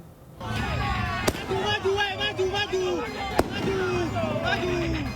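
Two sharp, loud firecracker bangs a couple of seconds apart during a street brawl between rival village groups throwing rocks and firecrackers, punctuating continuous excited talking and shouting.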